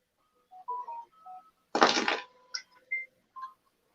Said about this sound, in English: that was just my alarm system notifying me it went armed